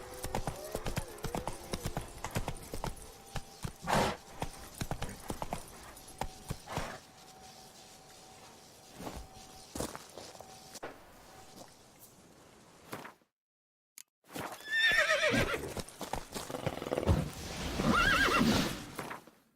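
Roach, Geralt's horse in the video game The Witcher 3, with steady clip-clop hoofbeats and loud whinnies, running through in-game ambience and ending in a brief silence followed by a louder burst.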